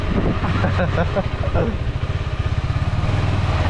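Motorcycle engine, a small bike or a 350 adventure model, idling at a roadside vada pav stop, with a close, steady pulsing chug that grows more distinctly rhythmic toward the end while people talk nearby.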